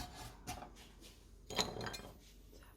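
A knife slices garlic into thin pieces on a cutting board, giving faint, scattered taps and scrapes at an uneven pace, quiet and close.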